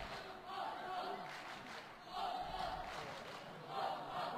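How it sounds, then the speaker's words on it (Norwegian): A football crowd cheering inside an indoor hall in Alta during an Alta IF versus Harstad match, a faint distant roar that swells in waves beneath a commentator's voice. "Vi hører at publikum våkner litt. De jubler her i hall, oppe på Alta."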